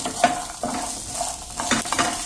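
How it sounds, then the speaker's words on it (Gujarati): Green peas roast over a slow flame, stirred with soft rhythmic scrapes and light clinks of a spatula against the pan under a steady gentle sizzle, up close. "એને પણ આપણે આવી રીતે રોસ્ટ કરી લેવાના છે સ્લો ફ્લેમ ઉપર, એની કચાશ દૂર થાય ત્યાં સુધી."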